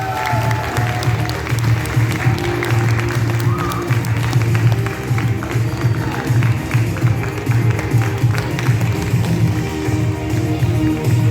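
Steady, dense applause from an audience at an award ceremony, continuous and fairly loud throughout without pause.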